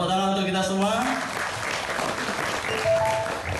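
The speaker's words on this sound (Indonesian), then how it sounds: "tepuk tangan untuk kita semua" Attendees at a youth forum reflection night applaud together, a broad wash of clapping running under a voice at the start and some brief vocal sounds near the end.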